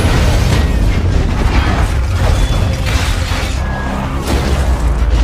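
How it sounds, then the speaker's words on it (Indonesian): A loud, continuous roaring blast of a building exploding in a thunderstorm, with crackling and rumbling debris, dense and overwhelming from start to finish, like a cinematic explosion. "Deko meledakkan gedung berisi para pejabat menggunakan badai petir."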